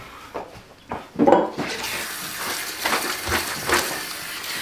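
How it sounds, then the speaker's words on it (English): Running water rinses soap and detergent off a bathroom shower, with splashing and spraying that swells and fades as the stream moves across the surface, close and fairly loud. "Just going to rinse that out again."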